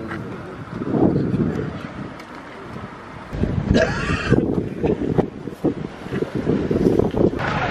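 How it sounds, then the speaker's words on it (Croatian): Strong sea wind buffets the microphone at an outdoor seaside film set for a TV commercial near Split, a steady roaring rush that swells louder midway, with someone talking briefly over it. "Evo puše ko ludo."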